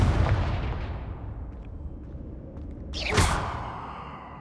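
A Confringo spell explosion in Hogwarts Legacy, a fiery burst with a bright whooshing flare that follows a rumbling boom fading out over several seconds, heard alone without speech.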